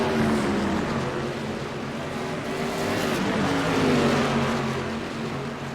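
Modified race cars roar down the straightaway toward the bus stop at Watkins Glen, engines droning loud and steady with a rising and falling pitch as the pack passes in close draft.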